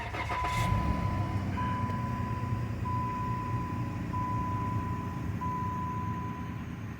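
A Chrysler 200 car engine is restarted during a heater actuator check, settling into a steady low idle hum with a faint repeating electronic tone, close by and with no talk.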